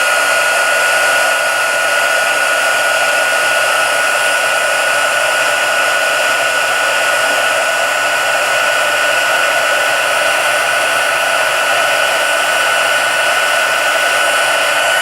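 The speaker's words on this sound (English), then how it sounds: "I'm just going to turn my heat tool." A heat tool blows hot air to emboss a small piece for a snow-themed treat box, giving a loud, steady, close whirring hum with an even blowing hiss throughout and no talking.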